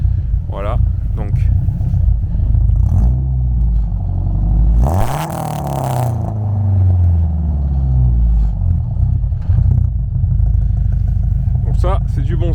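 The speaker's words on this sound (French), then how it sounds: "si tu veux la démarrer, comme ça on va entendre, parce qu'il y a un petit son à l'échappement" A Peugeot 306 Maxi rally car's engine idles with a deep, loud rumble, then briefly revs with a rising exhaust note before settling back, heard close up under steady conversation between men.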